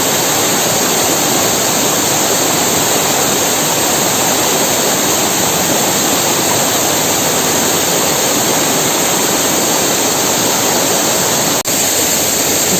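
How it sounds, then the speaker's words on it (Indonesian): Fast-flowing water rushes toward an old water turbine used for lighting in a forest, a loud, dense and unbroken roar like a waterfall that stays constant and close from start to finish. "untuk airnya di sini kencang banget"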